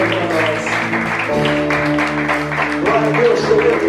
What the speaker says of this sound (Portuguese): Você pode aplaudir o Senhor no novo tempo, na nova história.